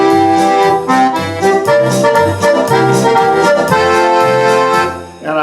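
Roland FR-8X digital accordion on registration 12, a musette-tinged polka sound, playing a steady, loud polka melody with bouncing bass and chord accompaniment for several seconds, no voices.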